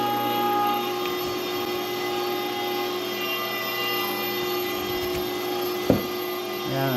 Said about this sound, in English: we can run it through the grinder plate a second time here